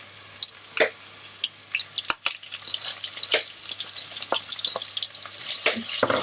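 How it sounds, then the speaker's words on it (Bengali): Ground spices such as cumin, turmeric, coriander, cinnamon and cardamom fry in a little oil in a pan, a crackling sizzle that builds and spatters, punctuated by scattered spoon taps and scrapes. "ভেজে নিচ্ছি, অল্প আছে নাহলে মশলাগুলো পুড়ে যাবে।"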